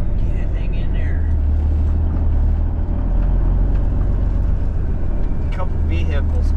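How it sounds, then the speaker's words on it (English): A couple of vehicles approach near a cabover truck, a low rumbling engine drone that stays steady throughout, with a person speaking quietly over it. "A couple vehicles coming here."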